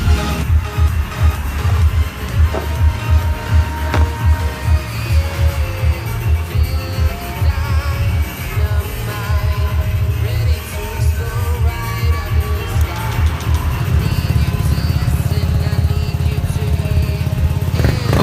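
A Honda Vario 125 scooter engine runs steadily and loud throughout, revving smoothly without sputtering during a test after a cold-start hesitation fix, close to the microphone.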